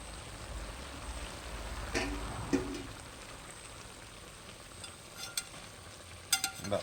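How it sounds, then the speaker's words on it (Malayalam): Nadan chicken perattu stewing in its own juices is stirred in a pan with scraping, clicking strokes over a quiet bubbling sizzle. A few sharper knocks come close together near the end. "ഇടയ്ക്കൊന്ന് ഇളക്കി കൊടുക്കണം"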